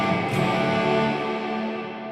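Sustained electric guitar tones run through delay, detune modulation and stereo reverb, with a dense shimmering wash that trails off smoothly, no talking.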